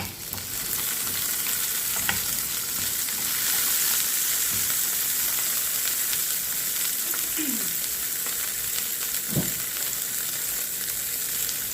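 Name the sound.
onion, garlic and tomato frying in oil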